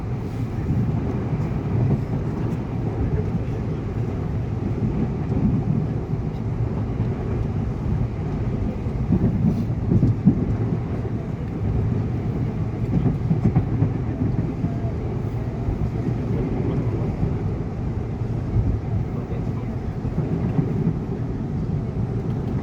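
A CRRC SFC120-V KRL commuter train during rush hour gives a continuous low rumble and hum from inside the carriage, steady throughout, with faint wind noise and indistinct background voices.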